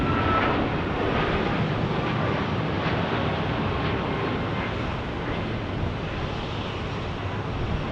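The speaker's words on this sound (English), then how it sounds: "That is the Suns charter about to take off." The Phoenix Suns charter airplane prepares to take off at Phoenix Sky Harbor, a steady, fairly loud broadband engine rumble with wind buffeting that holds evenly for several seconds.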